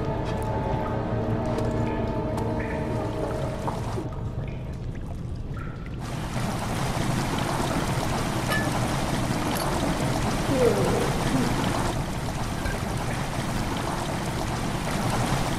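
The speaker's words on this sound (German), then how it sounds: "Wasser tritt langsam in die Kammer ein." Water flows slowly into a stone chamber in the video game Amnesia: The Dark Descent, a steady rushing trickle that swells after a few seconds and keeps running under faint, low ambient tones.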